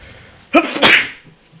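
A single sharp sneeze from a character in the courtroom game Ace Attorney: Rise from the Ashes, close and loud, with faint background sound before and after.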